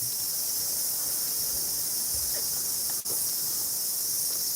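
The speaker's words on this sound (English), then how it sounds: "enjoying the cicada sound. Hear them?" Cicadas drone outdoors in New Zealand, a dense, constant high-pitched buzzing hiss that carries steadily without pause, with only a single faint click breaking through.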